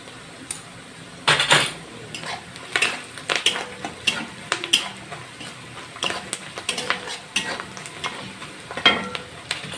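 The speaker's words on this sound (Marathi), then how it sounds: "कांदा लालसर होईपर्यंत परतून घ्यायचा।" Onions with turmeric sautéing in a pan for kanda poha: a close sizzle under busy metal spoon scrapes and clinks against the pan, with no talk.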